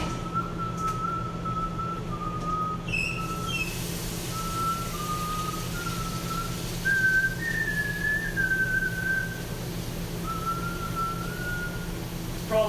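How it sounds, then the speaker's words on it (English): A person whistles parts of the Titanic theme song, a sustained melodic whistle in phrases with short pauses, over a steady low background hum. "Somebody has asked me if I could play the theme song from the Titanic. I can't play it on the recorder, but I can whistle parts of it."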